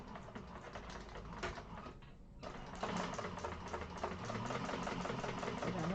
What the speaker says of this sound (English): I'm going to chain stitch them.